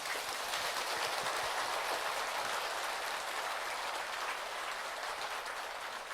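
A hall audience applauds a lecturing head monk after a Buddhist university special lecture, steady dense clapping held at an even level from start to finish, with no voices over it.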